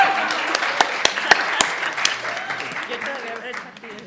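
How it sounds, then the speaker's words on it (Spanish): Scattered, moderately loud audience applause at a university community dialogue event, with sharp individual claps over a speaking voice, fading gradually toward the end. "Aplausos."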